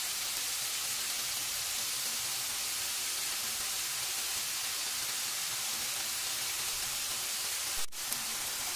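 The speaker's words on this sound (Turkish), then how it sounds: "tavuk etlerimizi tavamızda 10 dakika kadar pişiriyoruz" Continuous sizzling hiss of chicken frying in a hot pan, steady throughout, with a brief click near the end.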